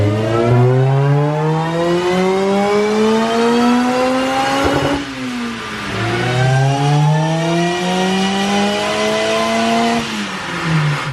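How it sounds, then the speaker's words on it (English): A supercharged car engine is run up on a dyno, its supercharger whining in a loud rising scream that climbs, drops back and climbs again across two pulls, heard alone without talk. "Now you can hear the supercharger. The supercharger screams."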